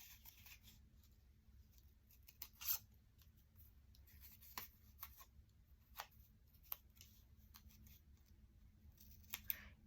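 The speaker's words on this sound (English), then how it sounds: "basically you just cut little C's in the corner and bigger C's in the middle" Scissors cutting index cards: soft, close snips come at irregular intervals over a faint steady background hum, each cut a short crisp click with quiet rustling of card stock in between.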